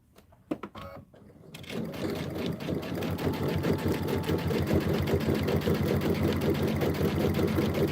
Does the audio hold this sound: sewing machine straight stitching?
yes